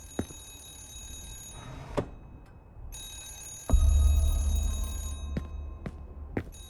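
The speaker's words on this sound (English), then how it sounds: "A telephone! It's coming from Ashman's office." A telephone rings behind a locked door in the horror game Remothered, a bright bell-like trill repeating in long bursts with pauses, heard through a low background hum and a few dull thumps.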